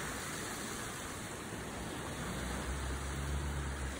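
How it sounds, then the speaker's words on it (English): Heavy rain pours down in Tobago, a steady broadband hiss of falling water that holds constant with no talking, faint but continuous. "As soon as we got back, rain started pouring."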